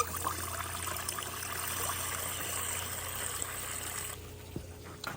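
Water pours steadily into a homemade fertilizer mix for potted plants such as tomatoes and a calamansi tree, a close, continuous trickle that stops abruptly near the end.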